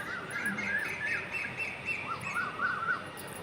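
A small bird bathing in shallow water gives faint, quick chirps and twittering calls in short clusters, heard at a distance over steady background hiss.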